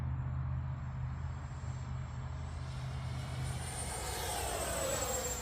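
A twin 64mm EDF SU27 Flanker RC jet flying overhead, giving a steady, sustained whine and rush with a high tone that holds throughout, loud and continuous with no talking.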